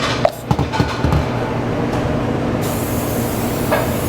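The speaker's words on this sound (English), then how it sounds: "I'm going to spray them pretty well with vegetable spray." Vegetable cooking spray on two baking pans: a steady hissing spray runs for a few seconds, with a few brief clicks and knocks near the start, close and fairly loud with no talking.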